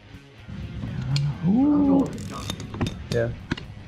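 A ratchet clicks briefly while a drain bolt is tightened on a 1998 Harley-Davidson Dyna with an Evo Big Twin engine during an oil change, close and fairly loud, followed by scattered small metallic clinks.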